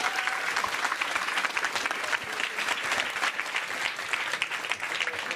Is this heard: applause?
yes